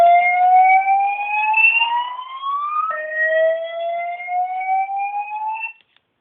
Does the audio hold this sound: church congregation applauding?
no